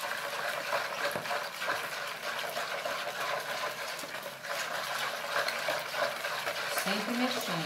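Homemade milk soap mixture being stirred continuously, with steady scraping and swishing that runs unbroken and moderately loud throughout, without any speech.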